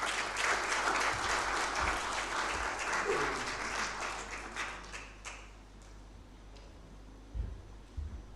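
Applause from an audience at a panel forum on the environment, a broad wash of many hands clapping that gradually fades out, leaving quiet room tone and a couple of faint bumps near the end.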